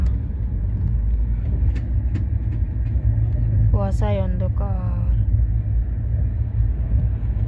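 A train rumbles steadily from inside the carriage, a loud low-frequency drone throughout, with a voice speaking briefly over it in the middle.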